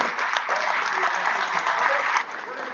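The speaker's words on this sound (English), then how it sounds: "So please clap for us this one." A conference audience applauds at an opening ceremony, a dense, even wash of clapping lasting a few seconds before easing off at the end, with faint voices beneath.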